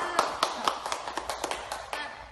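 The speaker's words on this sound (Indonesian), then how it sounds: "Tepuk tangan semuanya" A class of students claps together in a steady, even rhythm, about ten crisp, distinct hand claps spaced evenly over two seconds, close and moderately loud.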